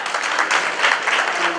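A banquet audience applauds in a steady, dense burst of clapping that fills the room evenly from start to finish, with no single voice standing out.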